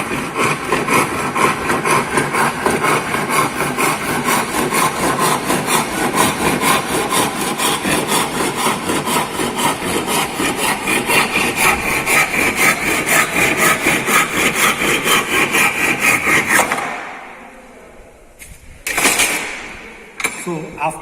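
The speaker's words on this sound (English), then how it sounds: "place the handsaw correctly so that the required pressure will be applied on this workpiece" A handsaw cuts through a wooden workpiece in a workshop, fast even back-and-forth rasping strokes running steadily and close for about sixteen seconds before stopping, followed by a few brief scrapes and knocks.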